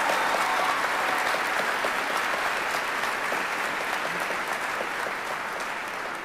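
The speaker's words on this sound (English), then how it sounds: "one more round of applause" A large graduation-ceremony audience applauds a high school string quartet, a dense, steady wash of many hands clapping that stays even and sustained throughout, with no voices over it.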